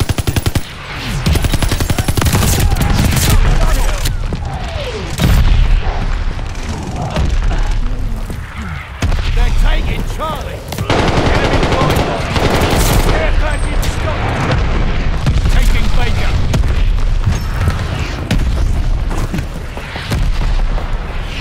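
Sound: mortar shells exploding in the video game Call of Duty: Vanguard

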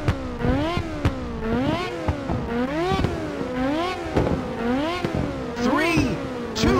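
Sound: race car engines revving in video game Ridge Racer

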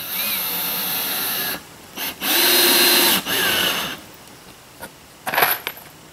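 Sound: screwing down plywood kitchen floor with a power drill

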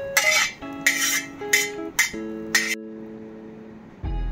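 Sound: cooled mixture transferred into mixer jar

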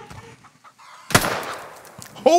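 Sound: chicken clucking in video game

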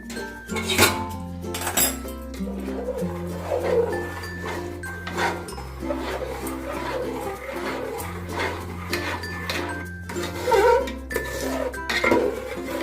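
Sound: stirring milk into date-palm jaggery payesh in a pot

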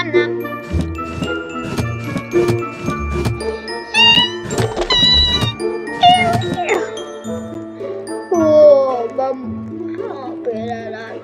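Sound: cat meowing in Roblox video game

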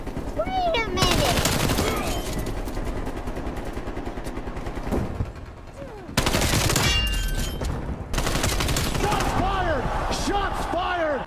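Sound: gunfire in a shooter video game

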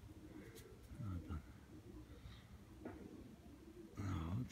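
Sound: pigeon cooing

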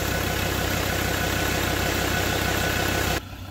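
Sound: Ford Ranger Wildtrak 3.2 pickup engine idling

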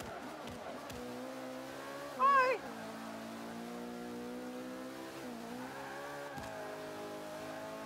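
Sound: race car engine in video game Forza Motorsport 5

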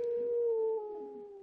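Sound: wolf howling in Minecraft video game

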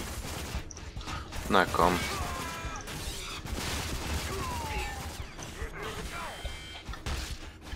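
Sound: gunfire from the video game Rage

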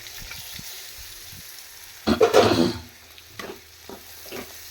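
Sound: okra sautéing in oil in a pan

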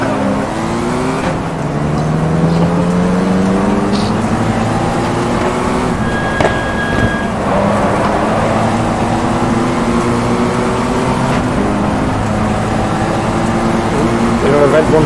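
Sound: Mini race cars racing at Goodwood Revival

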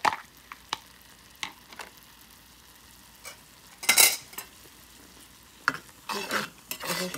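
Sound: spices being sautéed in a pan for shrimp malai curry

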